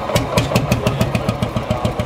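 A historic hot-bulb tractor engine is being started at a gathering of vintage tractors, giving a loud, close, rhythmic run of evenly spaced heavy thumps with sharp knocks on top, and no voices are heard.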